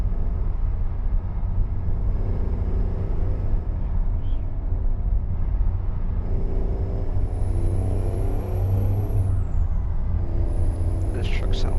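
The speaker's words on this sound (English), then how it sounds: "This truck sounds so nice." A heavy truck in a modded Euro Truck Simulator 2 convoy setting off from Zurich, Switzerland: a loud, steady low engine drone runs throughout, and hissing air brakes release toward the end.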